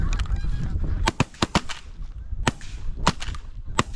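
Giant geese honk in sharp, repeated calls during an early-season goose hunt, several loud honks close by over steady outdoor noise, with brief gaps between bursts.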